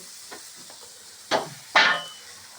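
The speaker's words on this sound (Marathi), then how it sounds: "तुम्हाला आवाज आला असं फोडणीचा आवाज" Spices tempering in hot oil for village-style pithla cooked over a wood-fired clay stove, with a few faint taps followed by two loud bursts of sizzling that fade away.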